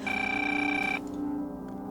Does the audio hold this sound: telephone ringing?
yes